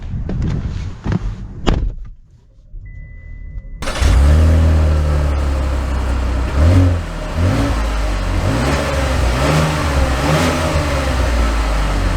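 A 2023 Chevy Blazer RS starts off after a door thud and brief quiet, its engine rising loud and close as the car accelerates away in several rising surges, with no talking.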